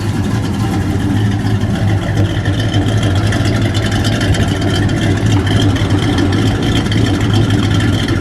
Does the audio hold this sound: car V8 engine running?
yes